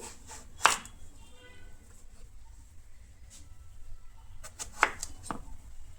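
A knife cutting through a bottle gourd on a board, two or three distinct sharp chops spaced a few seconds apart, close and fairly quiet over a low background hum.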